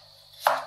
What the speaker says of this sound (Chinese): 姜切片